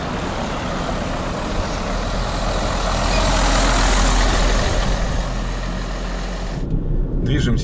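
A Volvo FH12 truck engine runs steadily at close range, a loud continuous rumble with heavy low-end throb that holds unchanged for several seconds while the air system is being pumped up.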